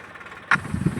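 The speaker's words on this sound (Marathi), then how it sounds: "आता ट्रॅक्टर बघा मी बाहेर काढलाय" A tractor engine starts up or revs abruptly halfway through, after ploughing a field at night, then runs close and fairly loud with a rough, uneven mid-range rumble.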